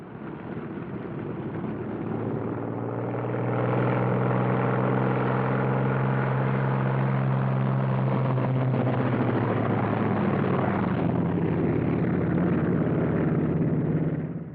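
A Thunderbolt aircraft taxiing out, its piston engine a loud, continuous rumbling roar that swells after a few seconds and holds steady, sounding muffled and rough like an old recording, with no voices.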